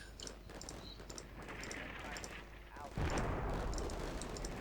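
Enemy artillery fire in the war game Combat Mission Shock Force 2: dense rumbling gunfire and distant blasts that swell into a heavier, louder impact near the end, with a voice talking over it.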